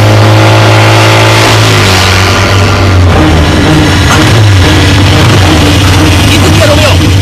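A motorcycle engine runs loud and close, its pitch rising and falling through several revs over a steady mechanical drone, with voices talking over it.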